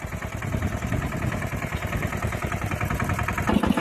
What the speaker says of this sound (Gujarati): ટ્રેક્ટર અત્યારે હાલે છે હાઈના પહેલા ગેરમાં